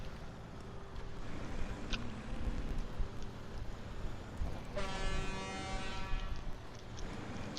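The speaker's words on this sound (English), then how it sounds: "Don't you honk at me." Truck horn honking in the off-road driving game SnowRunner, one sustained blaring tone lasting over a second amid steady engine rumble, moderately loud.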